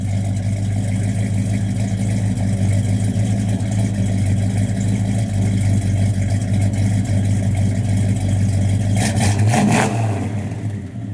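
A 1967 Chevrolet Chevelle SS 396 V8 with a Flowmaster exhaust runs close up with a deep, rumbling idle that swells into a loud rev near the end, then settles.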